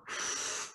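A single forceful exhale from a child blowing out, a short breathy whoosh lasting under a second, close and clear.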